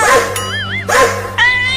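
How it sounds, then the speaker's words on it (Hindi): A dog yelps and whines in a few short high-pitched bursts, close and fairly loud, with a steady low hum underneath. "लगता है वो कुत्ता हमें ही काटने के लिए आ रहा है"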